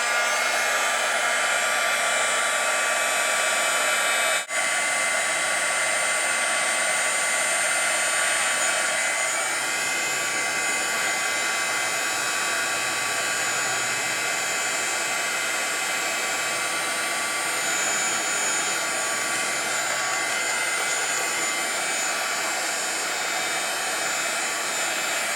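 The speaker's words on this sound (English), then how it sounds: "so I'm going to heat emboss the stamped image now." Heat embossing tool blowing hot air over a stamped card image, a loud steady whirring drone like a small hair dryer that runs continuously with a brief dip near the start.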